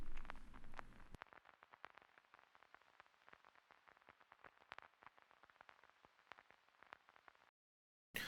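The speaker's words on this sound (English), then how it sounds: "I also got this like vintage vinyl crackle that I'm playing throughout the entirety of the" A vintage vinyl crackle effect from a Weeknd-style beat gives a steady bed of faint hiss dotted with dense irregular pops and clicks, quiet and alone, ending in a brief silence.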